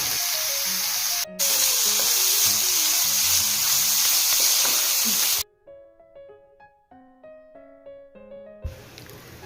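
Grated dry coconut roasting in a pan with milk and sugar for coconut burfi hisses with a steady, loud sizzle for about five seconds, then cuts to soft background music with faint stirring near the end.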